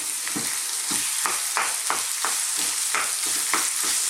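About 300 grams of beef mince for aloo keema sizzling steadily in a hot pan, with regular scraping stirs every half second or so cutting through the constant close, loud frying hiss.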